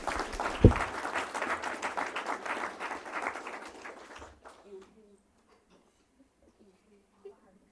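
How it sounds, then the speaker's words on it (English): Audience at a school board meeting applauding a student of the month: several seconds of dense clapping from a crowd that fades out to near silence, followed by a faint murmur and a single late clap. "let's give Jana a round of applause for our Student of the Month"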